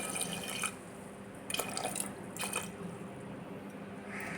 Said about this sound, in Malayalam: ഇത്രയും ചേർത്ത് കുറച്ച് വെള്ളം കൂടി ഒഴിച്ചു കൊടുക്കാം.